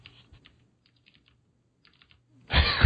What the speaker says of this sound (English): those keyboard clicks.